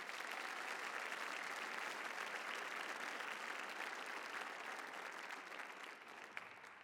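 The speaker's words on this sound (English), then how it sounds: "Give them a warm round of applause." An awards day audience at Holmesglen in 2015 gives steady, dense applause that carries evenly and then thins slightly toward the end.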